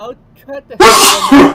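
A single loud, sharp human sneeze bursts out right after a few quiet spoken words.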